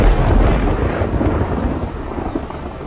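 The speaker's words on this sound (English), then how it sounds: "Then there was the sound of a thunder strike." A single heavy thunder strike, loud and close, with a deep rumbling roll that slowly fades over a few seconds, heard on its own with no voices.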